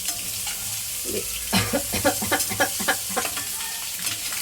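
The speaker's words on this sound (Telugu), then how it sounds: "ఇట్లా ఇలా సిమ్ములో పెట్టి కొద్దిసేపు బాగా ఫ్రై అవ్వాలన్నమాట" Egg fry cooking on a low flame, a soft constant sizzle broken by a series of gentle rhythmic stirring scrapes of a spatula in the pan.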